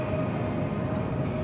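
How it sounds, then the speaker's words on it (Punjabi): A bullet train pulls into a station on the Samarkand to Bukhara line in Uzbekistan, heard as a brief, steady low rumble with a faint sustained whine, fairly close. "ਤੇ ਆ ਗਈ ਆ ਬੁਲਟ ਟ੍ਰੇਨ ਜਾਊ ਬੁਖਾਰੇ ਨੂੰ"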